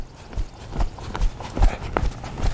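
A horse walks through a gate on a farm, its hooves clip-clopping in a steady, close rhythm over faint background noise, with no talking.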